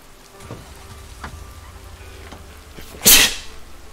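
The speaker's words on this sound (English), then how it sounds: "Ah, sneezing feels good." A single sharp sneeze bursts out near the end after a few seconds of quiet background noise.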